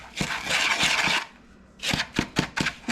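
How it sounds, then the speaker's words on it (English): A whisk mashes and scrapes through clumpy brown sugar in a bowl, a burst of dense scratchy scraping followed by a pause and then several quick separate strokes. "whisk to mash that up a little bit"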